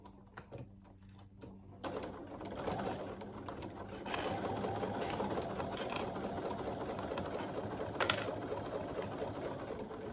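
A domestic sewing machine starts up after a few short bursts, then runs in a steady rapid basting-stitch whir, growing louder and continuing to the end.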